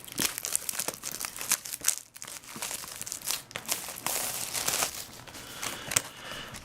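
The cellophane wrap and cardboard of a Magic: The Gathering M14 booster box are torn and crinkled in close, uneven bursts of crumpling and ripping that go on for several seconds with no talking.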